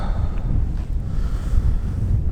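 Steady, loud wind buffets the microphone on an uphill Greenland trek, a continuous low rumble filling the whole stretch with no voices.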